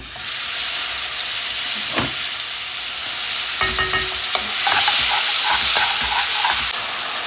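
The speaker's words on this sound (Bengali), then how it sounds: "মশলা কষিয়ে এনেছি" Spice masala being sautéed and stirred in a pan while cooking a fish curry with fried potato and eggplant, a steady loud sizzle with scraping stirs and clinks, no talking.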